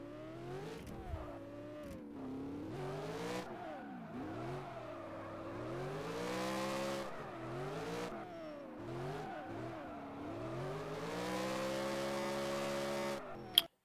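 In the rFactor driving game, a car is clutch-kicked into a drift through a hairpin, its engine revving up and down in sweeping pitch swings with tire squeal, loud and continuous.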